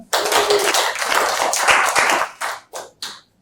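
A classroom of students claps hands together in a brisk burst that tails off into a few scattered final claps, close and fairly loud.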